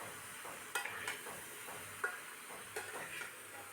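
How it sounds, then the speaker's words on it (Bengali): A spoon stirs pumpkin curry with salt and turmeric in a pan, giving soft scraping under a low background hiss, with a few sharp clicks of utensil against the pan. "নুন হলুদ দিয়ে ভালো করে আবার নাড়াচাড়া করে নিলাম।"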